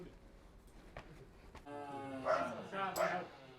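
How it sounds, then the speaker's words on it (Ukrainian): After a quiet stretch a farm dog barks loudly and close by, two or three sharp harmonic barks with a low rumble behind them. "Не гавкай."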